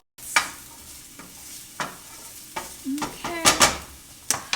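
Red onions sauteing in a pan, a low sizzle under repeated scraping and stirring strokes with a utensil, close and fairly loud; a voice speaks a single brief word.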